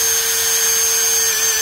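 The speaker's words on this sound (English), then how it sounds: "we're going to cheat and use the drill just in the interest of time" Power drill running steadily while backing bolts out of a cast tripod ball mount, a loud continuous whine with no pauses throughout.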